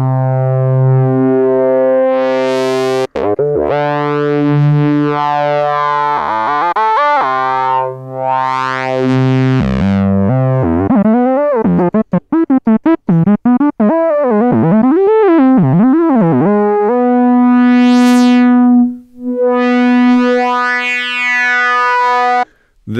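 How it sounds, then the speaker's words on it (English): A Korg MS-20 Mini synthesizer with its resonant low-pass filter swept up and down, producing loud, close sustained tones with whistling, sliding chirps and rapid warbling wobbles partway through, heard alone. "Then we take that and mix it with the low pass filter in resonance."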